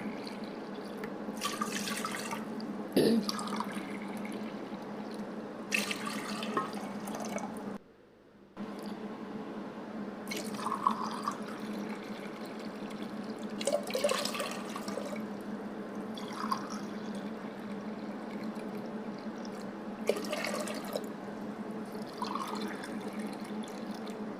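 Water runs into a pot for biryani rice, six cups in all, a steady splashing pour with brief pauses and clinks of the measuring glass between cupfuls, close and unaccompanied by speech.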